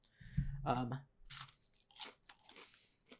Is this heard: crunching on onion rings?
yes